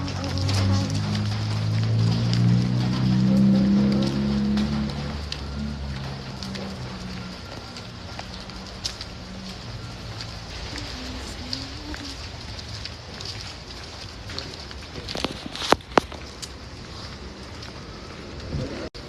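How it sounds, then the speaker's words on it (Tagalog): Steady rain falls as a broad, even hiss through the whole stretch, with a louder low rumble and talk early on, then a few sharp knocks and taps near the end. "Ang ulan."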